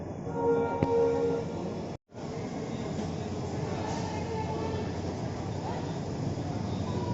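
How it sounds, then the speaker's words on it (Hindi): Train pulling out of Udaipur City station, a steady rumbling rail roar with a brief break midway, a faint horn-like tone early on, and muffled voices in the background. "तो देखिए इस ट्रेन का डिपार्चर आगे वाले में"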